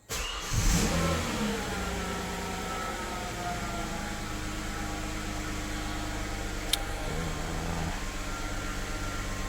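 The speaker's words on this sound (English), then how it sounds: "I'm gonna start the engine." A Hyundai Genesis with an intermittent stalling fault cranks and starts, its mid-pitched engine revving briefly, then settling into a steady, close idle that runs on unbroken with no voices.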